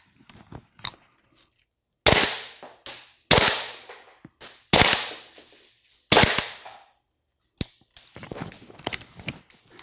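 Two rounds fired at two separate targets during shooting drills, heard as several sharp, loud gunshot cracks spaced a second or so apart, each with a decaying tail, after quiet handling noises.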